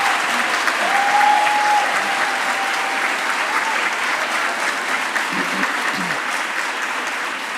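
Strong, sustained audience applause for a school leadership team at a girls' school event, a dense crowd of clapping hands filling the whole stretch, with a faint tone and brief voices underneath.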